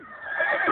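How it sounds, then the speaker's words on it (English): A horse, a family animal raised since birth, gives one close, loud whinny that rises and holds for under a second, with a strong and steady tone throughout. "He's the family horse."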